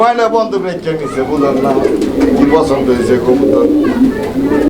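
Pigeons at a fancy pigeon farm coo in soft, throaty bursts close by, almost continuously, mixed under a person talking the whole time.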